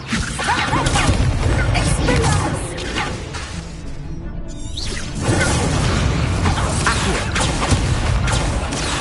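Magic spell effects from the Hogwarts Legacy video game, including fire and levitation spells, burst as repeated whooshes, crackles and impacts, dense and loud with a brief lull midway before the clatter resumes.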